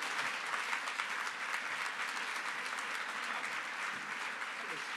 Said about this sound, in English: Let's have another round of applause for Eric Fierwald.